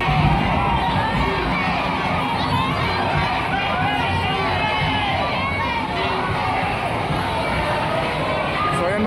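A dense, excited crowd at a mall grand opening in Cotabato shouts and cheers continuously, loud and close, with many overlapping voices merging into a constant roar.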